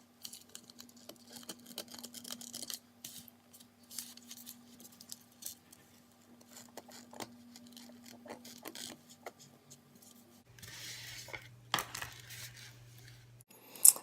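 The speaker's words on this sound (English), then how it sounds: "you can take your scissor and you're just going to carefully cut" Scissors snip carefully through wig lace in a quiet room, giving faint, irregular close-up clicks and small rustles with a low background hum.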